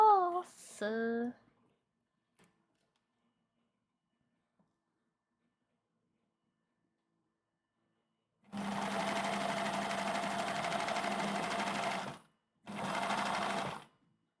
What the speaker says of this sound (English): I'm just sewing, like, on the edge of the overlocking here.